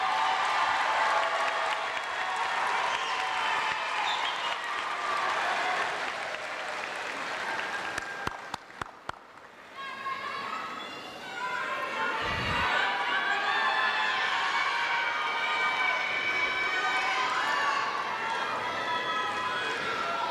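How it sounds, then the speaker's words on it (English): A graduation ceremony crowd in New Orleans breaks into loud applause and cheering. The clapping and shouts roll on, dip briefly, then swell again, with voices mixed through the noise. "please give your family a round of applause for supporting you"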